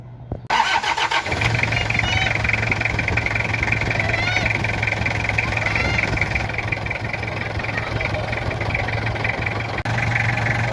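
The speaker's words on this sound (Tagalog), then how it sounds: "Toyota 2L diesel engine napakatibay talaga okay start natin" A Toyota 2L diesel engine cranks briefly and catches, then settles into a steady, loud, close-up idle with a constant low drone and rattly diesel clatter running without a break.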